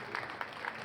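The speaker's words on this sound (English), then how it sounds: "A whole round of applause for our volunteers." Brief burst of audience applause for volunteers at a live crypto conference session, a dense, steady patter of many hands lasting under a second.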